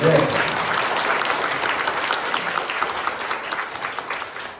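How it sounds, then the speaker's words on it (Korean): An audience at a redevelopment briefing session claps steadily for several seconds, a dense burst of applause that slowly thins out toward the end. "이 박수 한번 치셔야 되는데"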